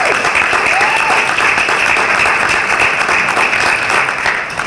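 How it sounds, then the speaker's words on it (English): Loud, continuous applause fills the room at a philanthropy foundation event honoring its first donor, a dense, unbroken wash of clapping that holds steady throughout. "Give him a round of applause."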